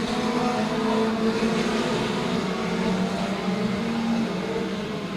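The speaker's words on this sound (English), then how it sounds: "Front-wheel drive and rear-wheel drive machines out there doing battle." Front-wheel-drive and rear-wheel-drive race cars battle around a track, their engines a steady loud roar with no break across the stretch and no talk over it.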